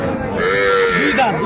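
Cows and calves moo at a busy rural cattle market in Aftabganj, several drawn-out lowing calls overlapping at close range amid steady crowd murmur.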